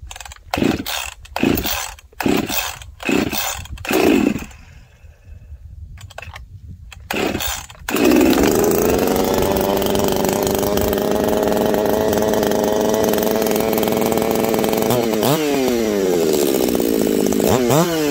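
A Husqvarna 353XP chainsaw is pulled over several times, catches and runs outdoors, settling into a loud steady drone with a couple of quick throttle blips near the end.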